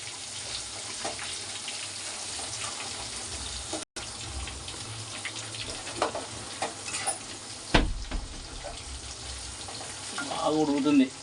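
Fish pieces frying in a pan of oil for a fish curry and fry, a steady soft sizzle with occasional stirring clinks and scrapes, nearby, with a voice talking at times and a louder bubbling surge near the end.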